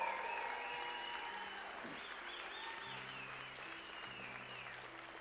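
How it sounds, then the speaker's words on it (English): An audience at a motivational speaking event applauds with a dense, sustained wash of clapping that tapers slightly, heard at a distance alongside cheers and a few whistles. "the legendary Dr. Nagasawa, give him a tremendous round of applause."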